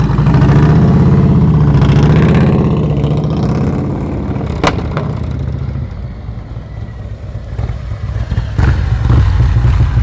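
A motorcycle engine runs during slow-speed riding practice, a throaty, loud, close rumble that eases from a strong drone into a lower idle-like burble, with a sharp click partway through.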